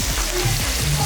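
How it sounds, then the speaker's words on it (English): Loud, crackling sizzle of steak hitting a hot grill, steady and close, with no talking. "you hear that sizzle drizzle"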